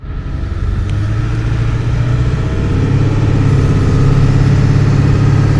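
A truck drives along a road on the way to an auto parts store, its engine a steady, close mid-range rumble with a broad low drone that holds even and unbroken throughout.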